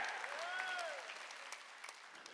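A church congregation claps together during a Sunday worship service, a dense, sustained wash of applause lasting the whole moment, with faint sung or spoken tones drifting over it.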